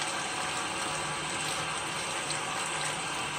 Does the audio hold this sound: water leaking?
yes